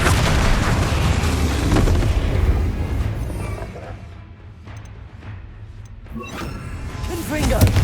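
Repeated Flipendo spell casts in Hogwarts Legacy on PS5, booming bursts that hit loud in a busy stretch, thin out in the middle and build again toward the end, over a dense layer of game noise.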